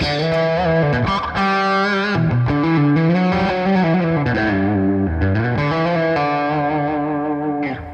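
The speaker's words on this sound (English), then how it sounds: "If I want to jump in nunchuck and I want a bit of breakup" A distorted electric guitar plays chords with a gritty, crunchy amp-plugin breakup tone, continuous and loud, with no voices.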